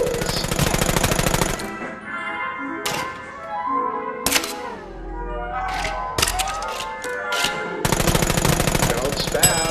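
Automatic gunfire in The American Dream VR on Meta Quest 2, with loud rapid bursts at the start and end framing quieter single shots, clicks and thunks between, over background music.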